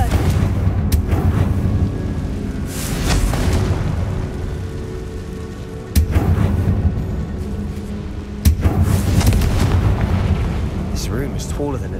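Fire spells blast in Hogwarts Legacy, with heavy booming explosions rumbling loud over game music and effects, several sharp bursts landing across the stretch while a voice speaks at times.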